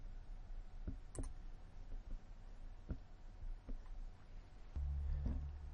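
A computer mouse clicks sharply about seven or eight times at uneven intervals over a quiet room hum, with a low steady tone rising near the end.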